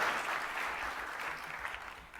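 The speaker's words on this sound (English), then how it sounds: "So please, a round of applause for him" A crowd claps steadily, a sustained wash of applause that holds at an even level before easing slightly toward the end.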